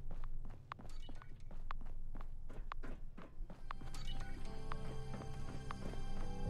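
Footsteps in the video game Fallout 76: a series of hollow, thudding steps at an uneven pace in the game world, followed by a stretch of lower rumbling ambience with faint tonal game sounds.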